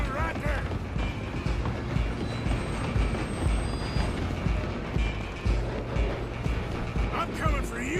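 A train rolling along in Red Dead Redemption 2, a steady, heavy rumble of wheels and carriages with faint metallic squeals and clanks, continuous throughout at close range.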